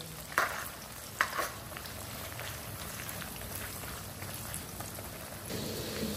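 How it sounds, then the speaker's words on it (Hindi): Onions frying in oil for a chicken jalfrezi make a soft, even crackling sizzle that runs steadily throughout, punctuated by two brief louder clicks near the start. "एक मिनट तक जी हम प्याज को फ्राई करेंगे ऑयल के अंदर"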